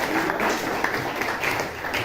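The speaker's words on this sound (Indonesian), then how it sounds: "Berikan tepuk tangan dulu pada kelompok." A classroom of students gives a student group a round of applause, with steady, dense clapping from many hands close by for about two seconds and faint voices mixed in.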